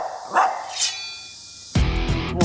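A dog in a team workplace gives a couple of sharp nearby barks, then after a short quiet a louder, harmonically rich bark or yelp close to the microphone.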